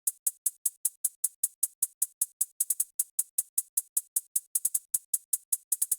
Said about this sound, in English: Moving on, we got a hi-hat.